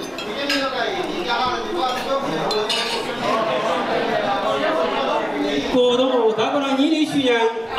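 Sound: glasses clinking during a toast at a banquet

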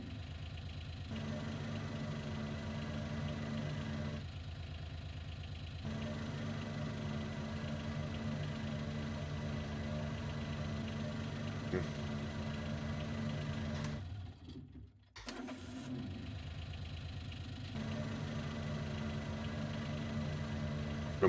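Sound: engine running in Landwirtschafts-Simulator 19 video game

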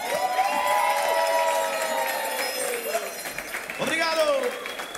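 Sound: audience applauding and cheering at a forró show

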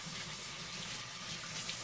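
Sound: rinsing salmon under a running tap

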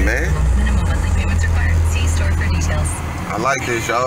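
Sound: Chevrolet Camaro SS engine sound

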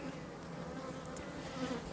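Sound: honeybees buzzing around hive

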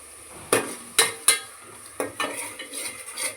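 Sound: goat head curry frying with tomato and green chillies

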